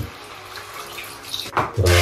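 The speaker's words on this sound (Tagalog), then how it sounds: "lagyan natin ng tubig" Water runs into a cooking pot while pork bistek is being prepared, starting as a soft trickle and swelling into a loud, close splashing rush near the end.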